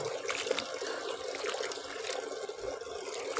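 Water draining and trickling from salted, soaked bitter gourd slices, a steady close pouring and splashing sound with no talking.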